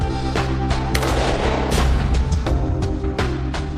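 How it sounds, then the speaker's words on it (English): 7.62 armor-piercing rounds are fired at reptilian-style body armor: a rapid series of loud, sharp gunshots, one after another, with a booming echo between shots. "And we got 2 shots, basically 2 shots in the gut."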